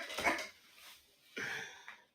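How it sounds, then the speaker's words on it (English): Sable's young puppies whimper and whine in soft, breathy bursts, two close squeaky cries separated by a brief quiet gap, near and fairly faint with no talk. "Sable's puppies"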